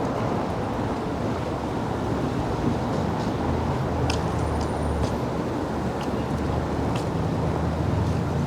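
Wind buffets a microphone on 23rd Street in Manhattan, a continuous loud rumbling gust that masks faint street noise for the whole stretch.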